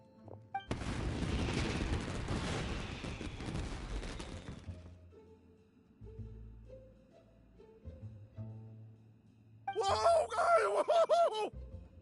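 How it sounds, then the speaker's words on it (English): Fireworks burst in the Genshin Impact game: a long, dense rumbling roar of explosions at first, then quieter tones, and a final bright crackling flurry near the end. "Yoimiya, this is turning into a bit of a fireworks display."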